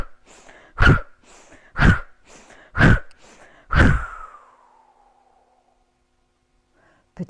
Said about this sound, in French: Et on expire comme si on voulait racler notre gorge, par le fond de notre gorge.